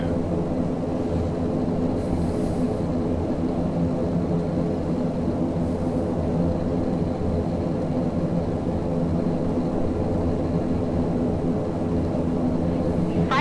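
Dash 7 turboprop engines in Microsoft Flight Simulator 2020 hold a steady, loud droning hum during the climb out of Dallas/Fort Worth, unbroken for the whole stretch.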